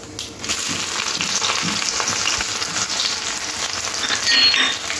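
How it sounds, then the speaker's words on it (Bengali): Chopped onion, two dried red chillies, cumin and garlic sputter in hot oil as a tempering for mixed lentil dal, giving a dense, loud, continuous sizzle with light scraping, close by and without speech. "পেঁয়াজটা একটু হালকা লাল লাল করে ভেজে নিতে হবে"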